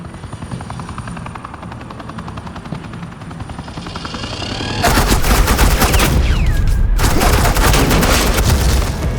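Suppressing gunfire erupts in the Batman video game, with sustained bursts of automatic shots loud over a droning helicopter after a quieter opening stretch of engine rumble.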